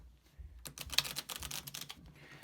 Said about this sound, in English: So we're going to shuffle our deck.